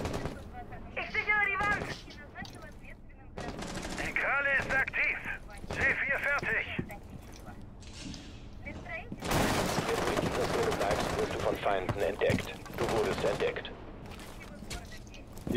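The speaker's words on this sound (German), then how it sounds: "Ich hab grad geschossen." Bursts of gunfire from the Rainbow Six Siege video game crack in short volleys and one longer dense stretch, close and loud, mixed with game sounds while players talk over it.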